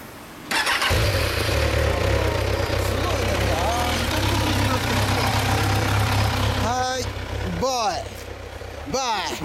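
A 2011 Kawasaki Ninja 250R sport motorcycle with a BEET exhaust idles loudly close by, its engine rumbling steadily before a few sharp throttle blips rev it up and drop back.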